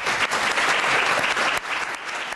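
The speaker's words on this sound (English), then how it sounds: "the applause that rang through Government House in Adelaide for Ashley Moore" Loud, sustained applause fills an Order of Australia award ceremony at Government House in Adelaide, a dense crowd clapping steadily throughout with a brief dip near the end.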